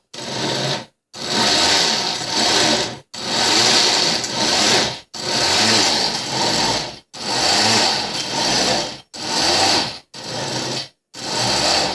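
An Oster blender grinds peanuts into peanut butter in loud, steady whirring bursts, about six pulses separated by short silent pauses, each run harsh and gritty with no talking.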